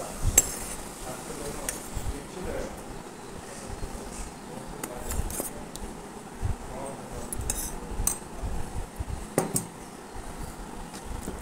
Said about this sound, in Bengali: এবারে পুরোটাকে আমি সুন্দরভাবে মিক্সড করে নেব।